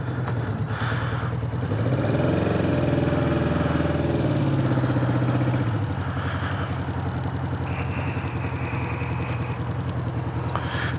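A carbureted 1976 Honda CB550K motorcycle engine idles close by with a steady, lumpy mechanical chug, swelling briefly as the revs lift and then settling back to an even, clattery idle, with no talking.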